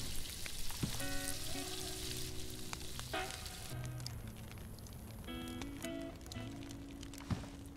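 Steak sizzles as it cooks over a fire in the survival game DayZ, with a continuous crackling fry under faint tonal game sounds.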